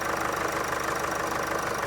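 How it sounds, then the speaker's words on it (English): A car engine idles steadily in a workshop with a scan tool connected, a continuous even hum with a faint rhythmic pulse throughout; the unit is suspected of a turbo fault. No one speaks. "So as you can hear, the engine is running."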